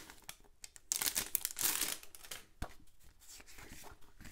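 Plastic-wrapped sticker packs from a pressed florals planner box being opened, with steady crinkling and a few sharp tearing bursts, close and fairly quiet, no talking.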